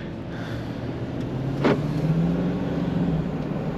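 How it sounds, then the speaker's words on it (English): A 2022 Ram 2500 Power Wagon with a 6.4L Hemi V8, driving with the windows down and heard from inside the cab: a steady low engine rumble under road and wind noise, with a short sharp sound near the middle. "Oh, that Hemi sounds nice."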